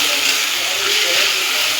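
Sizzling drumsticks sautéing with mustard and poppy seed paste, turmeric and salt, producing a constant loud hissing fry close up with no pauses.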